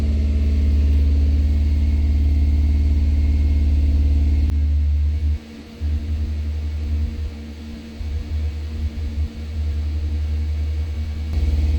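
A Mitsubishi Eclipse engine runs with the accelerator held, a steady low rumble and hum with a brief dip midway, heard close and continuous with no talk.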